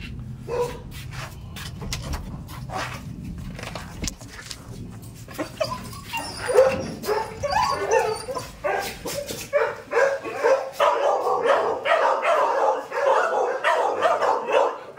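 Several pet dogs bark and whimper at a small house in Daet, with sharp yips and barks scattered at first, then a denser, louder run of whining and barking toward the end.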